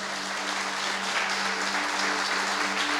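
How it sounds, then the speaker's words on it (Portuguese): A church congregation applauds during a sermon, with dense continuous clapping filling the room alongside a low steady hum. "Aplauda o Senhor."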